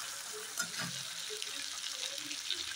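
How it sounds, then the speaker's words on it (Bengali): Mixed vegetables fry with onion in a pan and are stirred now and then, making a soft, low sizzle with a few light scraping knocks. A voice is faintly heard in the background. "এবার সব সবজিগুলো পেঁয়াজের সাথে একটু ভাজা হবে"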